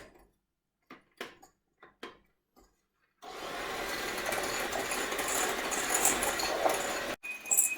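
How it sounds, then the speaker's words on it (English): Whisking eggs and sugar by hand in a bowl for a chocolate and raspberry mousse: a few short taps and scrapes, then a steady, loud continuous whirring as the whisk beats the mixture until it holds a trail. "I'm going to whisk this until it forms a trail."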